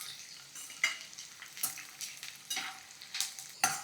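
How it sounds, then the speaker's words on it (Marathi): Garlic frying in oil until crisp for an onion chutney, a gentle sizzle broken by repeated stirring scrapes and light metallic clinks at a steady, uneven rhythm, close and without speech. "चला, लसूण खरपूस तळून झाला."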